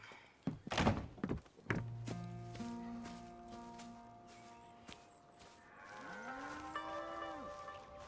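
Cows low on a ranch in Red Dead Redemption 2, with a long drawn-out moo and a rising bellow after a few heavy thunks and hoof-like knocks, moderately close and without talk.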